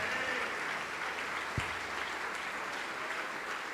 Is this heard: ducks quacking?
no